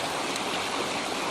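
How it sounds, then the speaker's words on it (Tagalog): A strong river current in Japan rushes past close by in a loud, constant churning wash of water, with no voices over it. "Malakas ang agos. Ilog."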